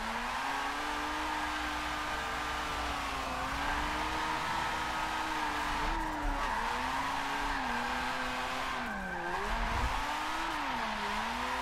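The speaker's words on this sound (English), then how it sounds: "can we still drift in Forza 7? Yes. Yes, we can." Car drifting in the racing game Forza Motorsport 7, with a continuous tire squeal wavering in pitch over a steady engine drone for about twelve seconds, rising and falling as the slide changes and briefly dipping near the end.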